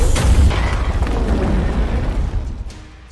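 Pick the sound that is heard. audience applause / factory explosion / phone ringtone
factory explosion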